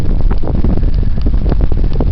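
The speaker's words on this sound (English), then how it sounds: "Hopefully you can hear over this wind." Strong wind roars across the microphone at a mountain summit in the Angeles National Forest, a loud, steady gusting rumble that fills the whole stretch with no letup.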